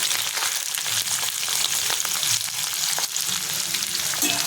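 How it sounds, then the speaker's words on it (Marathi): Steady, loud sizzling of garlic, chili and onion frying in hot oil in a kadai, a continuous crackling hiss with occasional stirring scrapes and no talking. "इथे एका कढईमध्ये तेल गरम करत ठेवलेले आहे त्याच्यामध्ये लसूण टाकून घेते मिरची आणि कांदा"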